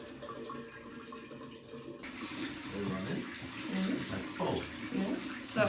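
Water runs steadily from newly fitted pipes in an old, abandoned house being renovated, a moderate splashing rush close by that grows a little stronger partway through.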